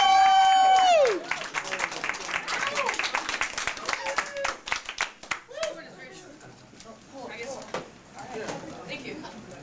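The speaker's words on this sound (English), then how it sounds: "So let's have a nice round of applause." A small stand-up comedy crowd claps for a comedian, the crisp, scattered hand claps thinning out over several seconds. A brief tone opens the stretch, and voices are heard near the end.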